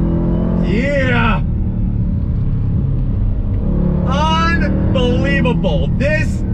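A 2021 Dodge Durango Hellcat SUV drives through a turn, its engine a constant low rumble throughout, with short rising and falling voice-like sweeps over it.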